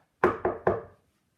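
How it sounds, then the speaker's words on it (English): Three sharp knocks on a wooden door land in quick succession, each ringing briefly before silence. "there was a knock at the door."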